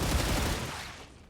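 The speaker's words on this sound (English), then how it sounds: "Who's shooting?" Automatic gunfire in the StarRupture video game: a short loud burst of rapid shots that trails off into fading echo within about a second.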